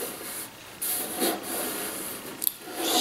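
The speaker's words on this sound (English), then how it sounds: "I just make a couple of cuts with my knife, my utility knife, and then just run this edge of tape" A utility knife drawn along the edge of tape while building a dart board cabinet, giving a steady dry scraping rasp with a few brighter swells and a sharp tick near the end, close by with no talk.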